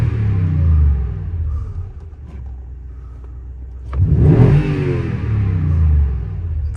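A Toyota Tundra TRD pickup engine fitted with an airflow accelerator idles with a low rumble, then is free-revved once in a rising, roaring burst before settling back to a steady idle.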